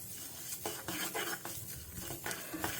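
Curry leaves frying in oil in a pan while being stirred, with steady scraping and clinking of a utensil against the pan over a soft background sizzle, close and moderately loud, no talking.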